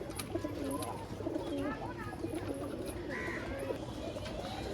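Pigeons kept for sale coo softly in low rolling calls, with someone talking over them and faint chirps scattered through the background.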